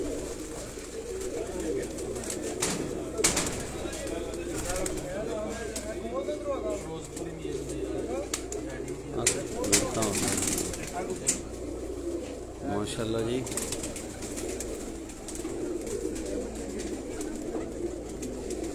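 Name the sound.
Batera and Kasuri pigeons cooing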